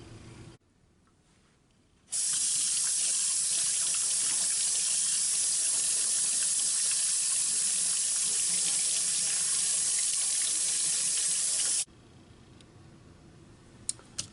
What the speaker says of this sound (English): now I'm going to wash my brush out really well before it dries